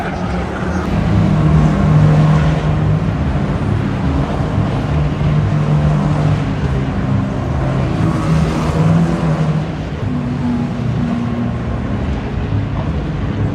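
A Lamborghini Countach engine drones steadily and loudly for the whole stretch, a thick low rumble with no clear revving or pauses.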